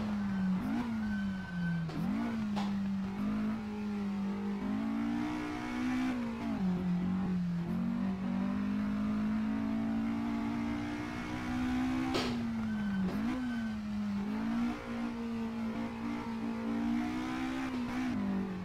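Porsche 718 RS 60 racing car in the Assetto Corsa driving game on the Red Bull circuit, its engine revving hard and steadily with repeated pitch dips at gear shifts, loud and continuous with no talk.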